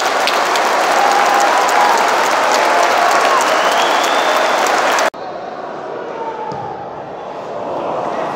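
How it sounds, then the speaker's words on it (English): A loud, dense roar of applause and clapping from a football stadium crowd at a Newcastle United versus Sheffield United match, sustained and close, with a sudden drop in level partway through as the crowd noise continues. "Brilliant. Get a round of applause."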